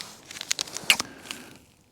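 Crinkly rustling and a few sharp plastic crackles as a Nescafe 3-in-1 caramel coffee sachet is handled at a Dartmoor wild camp, close and fairly quiet, fading out after about a second and a half.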